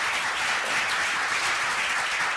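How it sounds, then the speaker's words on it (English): Continuous audience applause at a gathering, a thick, even wash of many hands clapping at moderate volume with no break. "A round of applause for"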